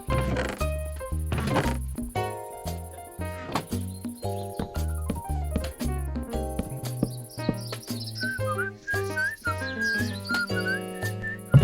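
A character whistles in a Halloween-themed Minecraft world, a light melodic tune of short rising and falling notes over rhythmic musical plucks and low tones.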